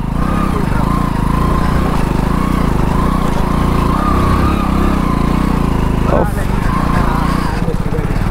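A motorbike engine roars loud and close as it labours up a steep off-road slope in Konkan, a steady throbbing drone with a brief dip in revs near the end.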